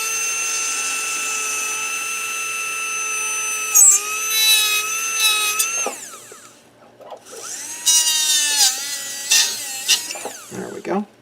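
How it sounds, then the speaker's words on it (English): A number 8 round burr drills into denture acrylic with a steady high-pitched whine that dips and rises in pitch as it bites in, stops briefly, then whirs again in bursts under quiet talk. "we take a number 8 round burr, finding that superior portion of where the relief chamber is"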